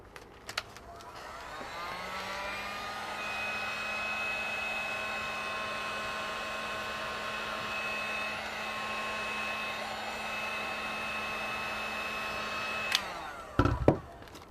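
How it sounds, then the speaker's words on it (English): A heat gun blows hot air over plastic on a collage piece, a loud, steady whirring roar that starts after a couple of seconds, holds evenly for about eleven seconds, then cuts off with a few clicks. "Hit it with the heat gun a little bit."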